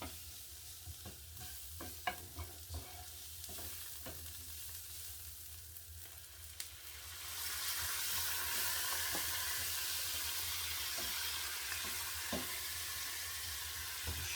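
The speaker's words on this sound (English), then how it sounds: "And then I'm going to add about 150 ml of red wine." Red wine poured into a hot pan of beef olives (bragioli), with scattered stirring clicks and light sizzling that swells into a loud, steady hiss and sputter about halfway through, close up with no talk.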